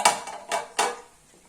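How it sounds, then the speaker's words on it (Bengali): A pot lid lifted slowly during cooking, three distinct metallic scrapes and clinks in quick succession, close and fairly clear, then fading to quiet. "ওই যে ঢাকনাটা খোলো, আস্তে আস্তে খোলো।"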